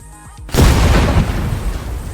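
A C4 charge detonates in the game Teardown with one sudden, very loud boom, followed by a long, rumbling roar and debris noise that slowly fades, with no talking.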